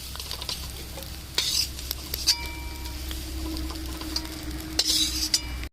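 Small river shrimp fry in oil with a steady close sizzle, broken by repeated scraping and clinking strokes of a spatula stirring against the pan, with no voices.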